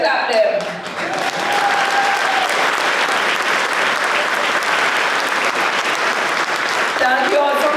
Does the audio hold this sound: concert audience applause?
yes